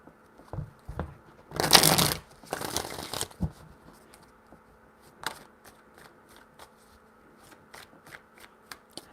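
Tarot cards are shuffled in two short, crisp riffling bursts close by, followed by scattered light taps and rustles as the deck is handled.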